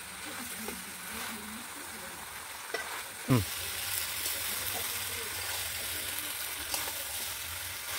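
Pumpkin and Malabar spinach vegetables sizzle steadily in a hot pan while a spatula stirs them, with one sharp scrape against the pan partway through; close and constant, with a voice speaking faintly underneath.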